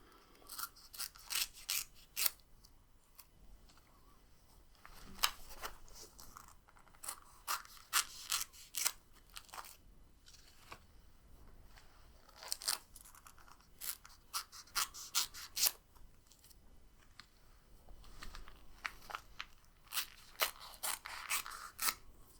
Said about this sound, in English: So I'll just cut these tags off.